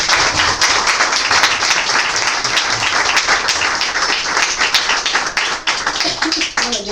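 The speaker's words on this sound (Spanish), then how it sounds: "vamos a darle un aplauso a nuestras invitadas de hoy" An audience gives a lively round of applause for invited female guests at a book presentation, dense, close clapping sustained for several seconds with scattered voices mixed in.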